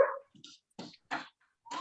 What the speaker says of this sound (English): And the dogs are excited.